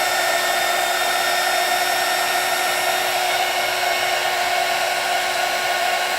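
A heat embossing tool blows steadily over a handmade card, a continuous loud whirring hiss with no pauses and no voices.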